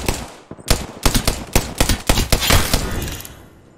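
Rapid gunfire from the video game Apex Legends, a loud, close string of sharp shots in quick bursts that ends in a short tail of fading noise.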